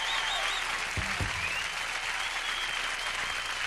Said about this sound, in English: Get the clapping going